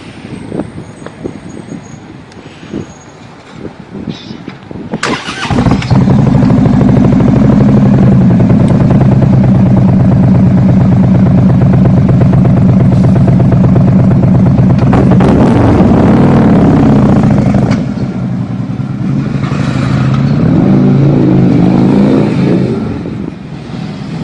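A motorcycle engine fires up with a sharp burst, then holds a loud, throaty idle punctuated by a few deep revs before easing back down.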